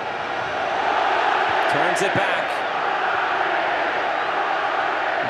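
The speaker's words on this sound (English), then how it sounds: "The crowd loving every moment." A stadium crowd at a Concacaf Nations League quarter-final football match against Mexico roars in a steady, dense wash of cheering, with a commentator speaking over it.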